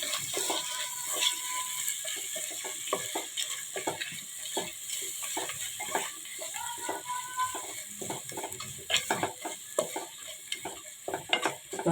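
A spoon scrapes and stirs a chicken biryani mixture with ginger garlic paste in a pot, in a busy, uneven rhythm of clinks and scrapes over a low sizzle, close by with no talking.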